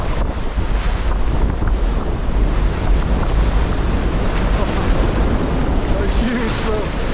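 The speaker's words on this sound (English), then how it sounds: "Waves are pretty, I would say 3-4 meters on the side here. Some big swells." Big ocean swells of about three to four meters and strong wind around a sailboat on rough seas, a loud continuous roar of rushing water and wind buffeting the microphone throughout.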